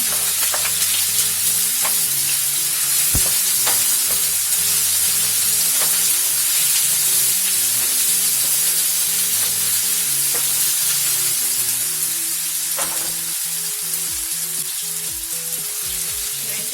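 Onion and pepper frying in a heated pan, a steady loud sizzle with occasional stirring scrapes, continuous throughout with no talking.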